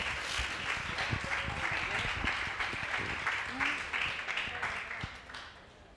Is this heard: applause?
yes